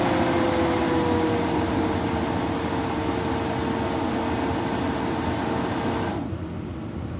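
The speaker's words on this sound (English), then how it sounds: "Self-purge is only gonna purge what's inside the recovery machine." HVAC refrigerant recovery machine running its self-purge cycle, a loud steady mechanical drone with a faint whine that cuts off abruptly near the end, leaving a quieter hum.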